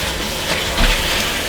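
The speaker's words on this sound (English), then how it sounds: "We're going to let this simmer for a little bit so we don't have as much water," Taco casserole mixture simmering in a pan as excess water steams off, giving a steady, soft broadband hiss with faint low bubbling throughout, with no voices.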